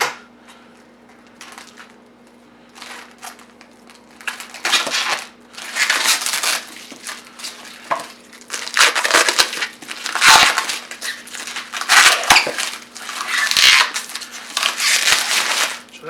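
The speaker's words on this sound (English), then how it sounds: "So this is actually sticky cellophane." Sticky cellophane wrap is peeled and crumpled off a QHY183c astronomy camera box, making long stretches of loud, close crackling and crinkling that swell and fade over several seconds, with a faint steady hum beneath.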